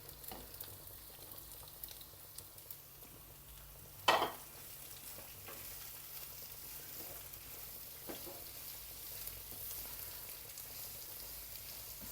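Onions fry in a pan with a soft, steady sizzle, broken by one sharp clatter partway through; no one speaks.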